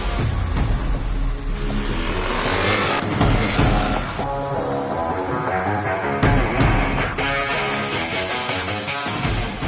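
Yamaha Aerox 155 scooter at full throttle on a track at Sentul, a loud continuous engine roar with rising and falling revs over several seconds, no talk.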